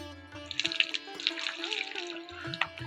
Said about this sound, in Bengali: এই যে দেখতে পাচ্ছেন আমি স্নান করছি